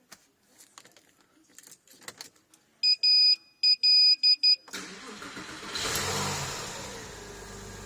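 A Porsche 996 engine makes its first start-up after an IMS bearing replacement: keys jangle, warning chimes beep in bursts, then the starter cranks and the engine catches, revving up before settling into a steady idle close by.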